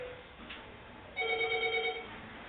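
A telephone rings once with a bright electronic tone burst of about a second, fairly faint, following a quiet stretch with a brief earlier blip.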